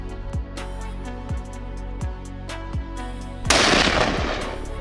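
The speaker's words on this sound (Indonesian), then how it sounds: "suara tembakan terdengar." Gunfire in the German countryside during a mass cull of wild boar: four sharp, evenly spaced reports ring out with echoing tails, then a denser burst of crackling noise follows near the end.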